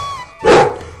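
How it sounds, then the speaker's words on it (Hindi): A single short dog bark, sharp and fairly close, after a moment of quiet with faint tones in the background. "शेरू का भौंकना सुनकर किसान अपनी लाठी लेकर दौड़ आया।"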